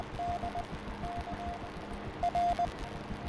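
Faint intermittent Morse code tones from a downed pilot's rescue radio, short beeping bursts repeating under steady background hum and noise.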